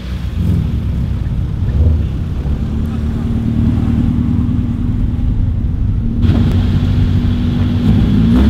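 A Toyota Supra MKIV idles with a deep, steady engine rumble at an outdoor car show, the low drone continuing throughout with a slight rise near the end while people talk nearby.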